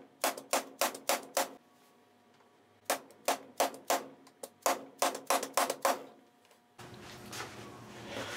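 A hammer taps pre-cut frets into the neck of a 1920s guitar during a dovetail neck reset. Sharp, close, ringing blows come in quick bursts of several taps, with pauses between them, followed by a rustling handling noise.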